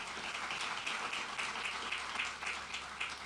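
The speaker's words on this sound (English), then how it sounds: "So give him a round of applause" Faint, steady applause from an audience at a NASA presentation on lunar plans and a crew lunar vehicle, a soft continuous patter of many hands with no voices over it.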